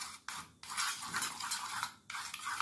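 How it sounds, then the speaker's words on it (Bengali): Sour curd being whisked in a large bowl, bursts of rapid scraping and clinking of utensil against the bowl with brief pauses between, close and fairly loud, no talk. "টক দইটাকে প্রথমে একটু ভালো করে আমি ফেটিয়ে নিচ্ছি।"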